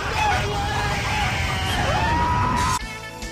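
Chickens cluck and squawk in a noisy, busy cluster close by, with a sustained tone sliding in, before the sound drops to quieter tones.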